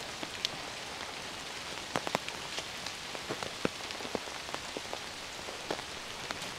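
Steady rain falls in Sherwood Pines forest, a dense patter of drops striking leaves and surfaces with scattered louder close plinks, continuous and fairly soft throughout.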